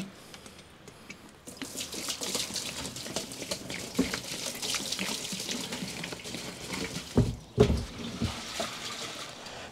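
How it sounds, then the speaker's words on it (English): Gasoline being poured and flushed through a Humvee's diesel fuel system, splashing and trickling liquid that starts quietly then turns steady, with a few louder gurgling surges near the end. "by flushing it through with a little bit of gasoline a couple of times"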